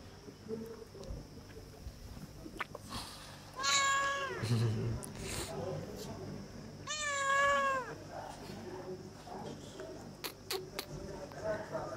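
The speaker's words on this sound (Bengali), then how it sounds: "যেখানেই যাব সেখানে এরকম বিড়ালের দেখা পাবোই।" Cats meow in two loud, drawn-out rising calls at a hill resort in Bandarban, Bangladesh, at dusk near water. Voices talk and light background noise runs between the calls.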